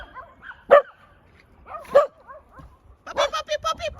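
Young puppies, including a big border named Dakota, bark outdoors while romping: two sharp single barks, then a quick run of yips close by.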